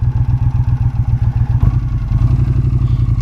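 A muscle bike's motorcycle engine idles close by with a loud, even, lumpy low-pitched throb and a brief blip near the middle, with no voices.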